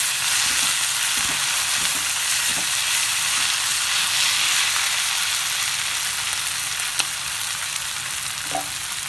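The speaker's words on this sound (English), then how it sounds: "after the onions are fried well, I added our fried prawns in it" Prawns fry in a pan with onions, garam masala, mint, coriander and dry coconut powder, a loud, even sizzle with a few faint stirring clicks throughout.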